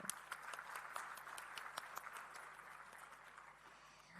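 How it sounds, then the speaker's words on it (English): A large audience applauding steadily at an award ceremony, the dense clapping sounding somewhat distant and gradually fading slightly toward the end. "Can we begin with a big round of applause, everyone?"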